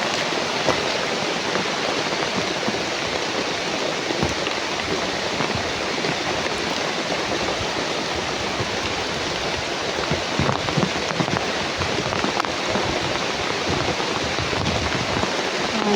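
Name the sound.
heavy rain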